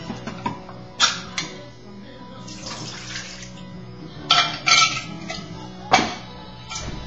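A whisk stirs French onion soup mix into liquid in a crock pot for stew, giving splashy, clattering bursts of swirling liquid that come and go over a low steady background, with no talking.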